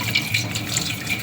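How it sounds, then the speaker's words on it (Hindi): A tap runs into a sink as a peach is washed under it, a loud, continuous close splashing rush of water with no talking. "यहाँ पे देखिए नलके के पास धो लेती हूँ।"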